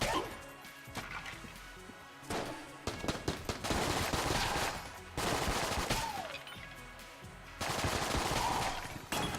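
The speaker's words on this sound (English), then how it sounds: "Here come the bullets." Bursts of gunfire and bullet sounds come in several separate volleys in the video game Enter the Gungeon, punctuated by sharp impacts and crashes, fairly loud with brief pauses between waves.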